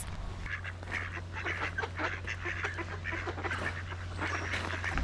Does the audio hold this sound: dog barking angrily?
no